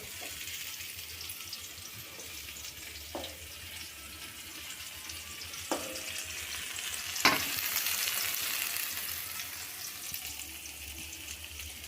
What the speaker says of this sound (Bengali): আমি এদিকে গ্যাসে ভাজাগুলো করছি। আলু ভাজা হয়ে গেছে, বেগুন ভাজা হয়ে গেছে, পটল ভাজা হচ্ছে